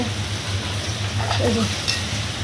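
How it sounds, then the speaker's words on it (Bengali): Okra and potatoes frying in a pan, a steady low sizzle with occasional stirring scrapes, close up and fairly quiet with a faint steady hum underneath. "এখানে এটাই লাস্ট রান্না, ভিন্ডি আলু ভাজা হচ্ছে।"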